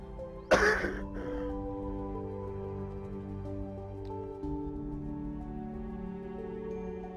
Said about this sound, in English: I'm curious why we feel compelled to cough so much.